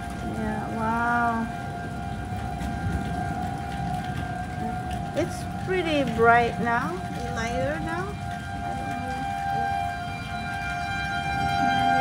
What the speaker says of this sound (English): We have a tornado warning, and those are the sirens going on.